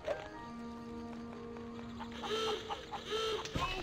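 A chicken in the Ratatouille video game gives a few short clucks and squawks over a quiet game soundscape, moderately near, with a sharp effect near the end.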